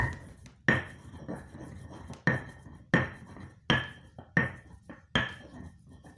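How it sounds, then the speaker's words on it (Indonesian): Young and old bidara leaves crushed together in a hand grinder or mortar, giving a series of sharp knocking and scraping strokes at a steady, slightly uneven rhythm, close and moderately loud, with no talk. "Kita campur, kita giling."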